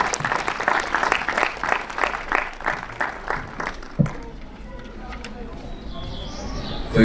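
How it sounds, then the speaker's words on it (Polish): Audience at a classical music concert breaks into applause, a burst of clapping that fades out after a few seconds, leaving quieter room ambience with a faint bird coo. "Także poprosimy o brawa."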